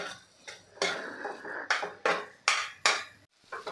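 Egg bhurji, beaten eggs scrambled in a pan for Mumbai-style anda bhurji, stirred with a utensil scraping and clinking against the pan in a series of close, sharp metallic strokes with no talk.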